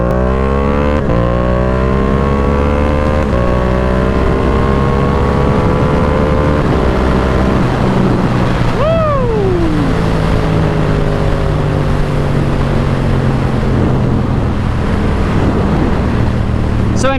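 Yamaha R7 motorcycle engine revving hard while riding, a loud continuous howl climbing in pitch through several gear shifts, with wind rush throughout and one sharp swooping rev change midway.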